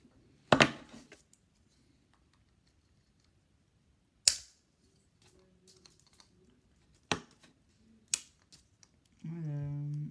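Cyanoacrylate-glued parts are cut away from a model train wagon, making four sharp, close cracking snaps spaced a few seconds apart with quiet gaps between them, followed by a short steady tonal hum at the end.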